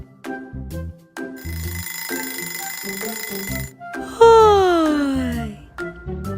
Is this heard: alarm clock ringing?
yes